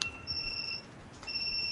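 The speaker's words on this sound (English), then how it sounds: "that was the alarm that was intended to stop me from sleeping in and missing my" An alarm clock goes off with a shrill electronic two-tone beeping. A sustained pulse cuts out for about half a second, then resumes, loud and close in an otherwise quiet room.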